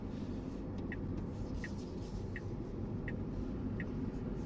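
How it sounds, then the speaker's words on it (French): A Tesla Model 3 turn signal ticks in a soft, evenly spaced rhythm, five clicks over a steady low cabin and road rumble while driving. "Ah, c'est marrant le clignotant."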